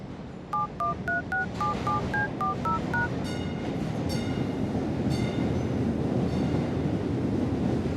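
A train arriving at a Tokyo station rumbles and hisses steadily while a short run of electronic beeping tones sounds first, followed by a series of bright chimes.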